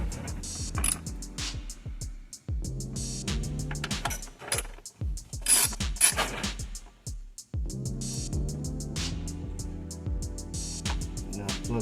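A ratchet snugs Chrysler 300 spark plugs down by hand in several bursts of rapid metallic clicking, close and quiet, with short pauses between runs.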